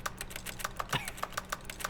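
Typing sounds in The Stanley Parable video game, a rapid irregular run of crisp keyboard taps, close and clear, with a brief chime in the middle.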